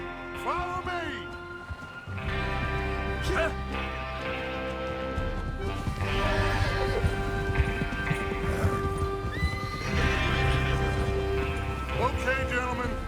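Horses in Red Dead Redemption 2 ridden out at the start of a train-robbery mission: hooves clip-clopping steadily, an occasional whinny, and rain on surfaces, with game music and voices talking throughout.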